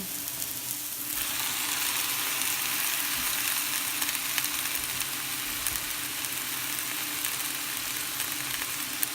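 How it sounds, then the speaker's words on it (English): Fresh spinach hits a hot pan and frying sizzle fills the track, a steady, close, dense hiss with faint crackles continuing for several seconds, with no speech. "Let's go ahead and add the spinach in."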